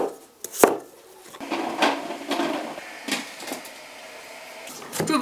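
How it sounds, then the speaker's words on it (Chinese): A knife slicing potatoes on a wooden cutting board, a few irregular close cuts and knocks with soft scraping between, faint and without speech. "洋芋切片，先给蒸熟。"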